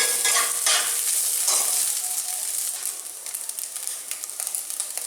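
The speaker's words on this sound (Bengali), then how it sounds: "মাঝে মাঝে নেড়ে নেড়ে পুরো মাছের ডিমটা আমি ভেজে নিলাম।" Fish roe fries in a pan with a steady, bright sizzle, while scraping stirs come through now and then across the whole stretch.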